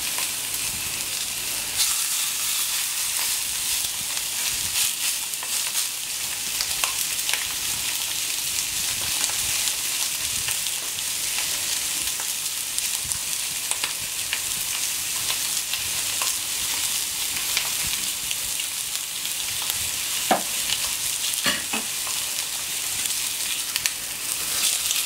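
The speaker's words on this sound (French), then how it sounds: "On va mettre nos petits coquelets à cuire. Côté intérieur en premier." Small spring chickens (coquelets) sear inner side down on a hot plancha grill, giving a loud, dense, continuous sizzle that holds steady throughout with faint crackles and no voices.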